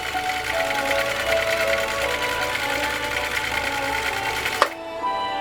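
A Husqvarna Viking CL21A sewing machine running steadily through three layers of genuine cowhide leather, a loud continuous mechanical whir with rapid stitching rhythm that stops abruptly near the end.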